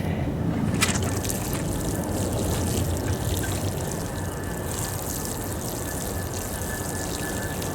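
Water pours and trickles steadily into the soil of a container-planted blueberry bush, a continuous wet splashing that stays even from start to finish, with no talking.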